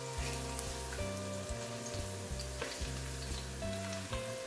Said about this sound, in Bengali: আমি রসুনগুলো দিয়ে দিচ্ছি, 30 সেকেন্ডের মতো এগুলোকে একটু ভাজবো